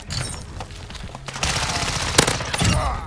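Rapid gunfire in a video game, with dense overlapping shots and a sharp crack near the end, loud and close with a busy background of battle noise.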